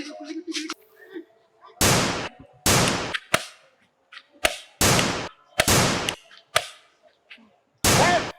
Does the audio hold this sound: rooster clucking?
no